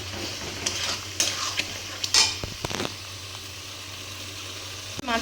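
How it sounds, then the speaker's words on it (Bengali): Spice paste sizzles as it is sautéed with mung dal and katla fish heads in a pan, with steady frying crackle broken by several spatula scrapes and clinks, then a final stir near the end. "মুগ ডালের সাথে ভালো করে এই মশলাটাকে কষিয়ে নেবো আমি"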